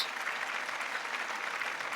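Audience applause at an awards ceremony honoring sponsors, a dense, steady wash of many hands clapping that continues evenly throughout without pause.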